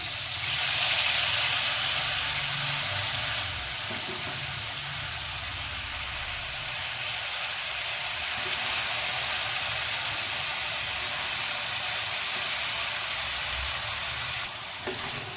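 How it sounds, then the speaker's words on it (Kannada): Ash gourd pieces tipped into a hot pan of oil tempering set off a loud, steady sizzle with hissing steam that holds for the whole stretch, easing only slightly later on, with no voices over it. "ಆಮೇಲೆ ಇದು ತೊಳೆದಿಟ್ಕೊಂಡಿದ್ದು ಬೂದ್ ಕುಂಬಳಕಾಯಿ ಹಾಕ್ತೀನಿ"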